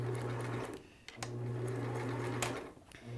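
A sewing machine stitches one long seam on a CourageCap with a steady motor hum, pausing briefly once and again near the end.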